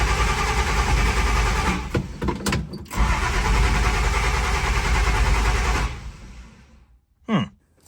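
A turbocharged Slant Six in a 1963 Plymouth Valiant cranks and runs loud and close, a rough sustained roar with a few brief dips before it cuts out, followed by a short squeak after near silence.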